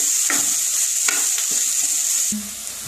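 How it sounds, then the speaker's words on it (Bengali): Food sizzling loudly in a hot pan as it fries until reddish, with a bright continuous hiss and several scraping stir strokes, then a brief knock near the end. "একটুখানি লাল লাল করে ভাজতে হবে।"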